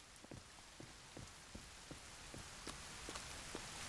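Steady rain falls in the survival game The Forest, a dense soft hiss with scattered, regularly spaced drip-like taps, quiet and continuous without any talk.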